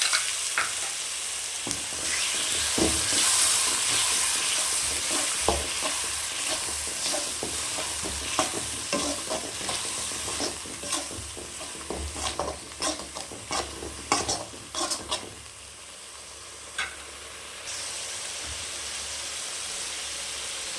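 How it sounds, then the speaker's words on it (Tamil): Continuous sizzling of ground roasted coriander spice powder in a pan for mutton chukka, with repeated scraping and stirring clatters, steady and close, fading slightly toward the end. "பச்சை ஸ்மெல் போகிற வரைக்கும் நல்லா வதக்கி கொடுங்க"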